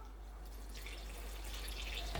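Lukewarm water trickles into a bowl of ciabatta bread mix, a soft steady splashing pour that grows slightly fuller toward the end, quiet and close with no talking.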